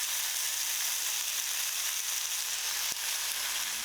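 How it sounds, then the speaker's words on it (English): Four slices of bacon frying in a pan throw off a steady, dense sizzle that runs unbroken throughout, close and fairly loud, with one brief knock near the end. "So while the bacon's cooking"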